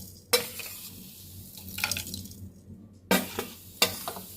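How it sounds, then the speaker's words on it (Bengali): Cumin, black pepper, mustard seed, garam masala and dried chillies dry-roasting in a pan, with a soft crackle under a few sharp scrapes of a spoon stirring them around. "শুকনো লঙ্কা সব একসঙ্গে হালকা ভেজে নেব।"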